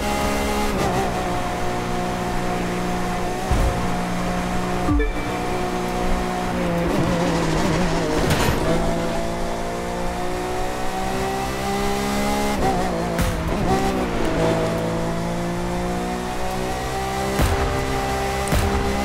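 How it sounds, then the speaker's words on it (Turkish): A racing car in The Crew 2 roars at high revs, its engine pitch climbing and dropping through gear changes, with bursts of tire squeal and skidding, loud and close throughout. "Oğlum yırtınıyor araba ha."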